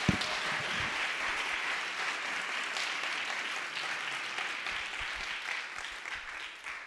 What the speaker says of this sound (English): One more round of applause for Guy.